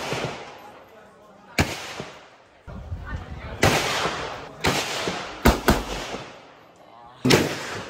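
M16 rifle shots at the Cu Chi tunnels shooting range in Vietnam, with loud, sharp reports spaced unevenly over several seconds and reverberant echoes, with voices in between.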